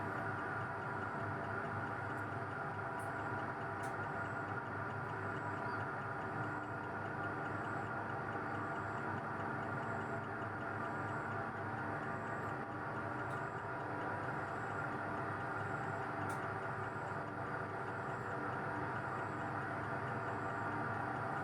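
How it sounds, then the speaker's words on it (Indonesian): A steady, low mechanical drone hums throughout with faint occasional ticks, like a washing machine running nearby; quiet and unchanging, no voices. "Ini maaf agak berisik, ada mesin cuci."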